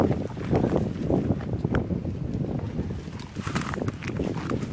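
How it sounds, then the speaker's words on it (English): Gusty wind buffets the microphone with low rumbling bursts, steady throughout with no voices. "Sorry, it's kind of windy, huh?"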